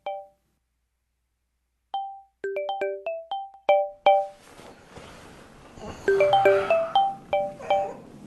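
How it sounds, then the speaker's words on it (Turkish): A melodic phone ringtone chimes loudly and alone in bright repeating notes, starting with a few isolated tones and then running into a busy, fuller ringing passage. "Sen telefonuňa jaň gelýär."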